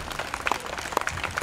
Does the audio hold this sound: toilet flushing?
no